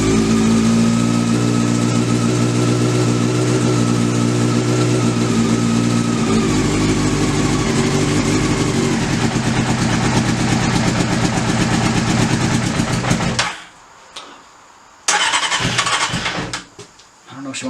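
A Honda CBR600 motorcycle, freshly serviced after months of sitting, runs loud and close with steady engine hum and rising revs for about thirteen seconds, then cuts off abruptly, with another short burst of running near the end.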